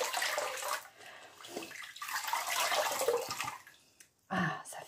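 Clear water splashed and rinsed over the face two or three times at a sink, bursts of wet splashing and running water with short pauses between them.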